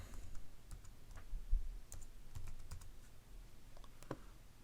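Typing on a computer keyboard while setting up an unRAID server, with scattered, irregular key clicks heard close and fairly soft.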